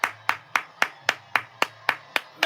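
Steady hand clapping, about ten sharp claps evenly spaced at a brisk rhythm, close and fairly loud with nothing else over them.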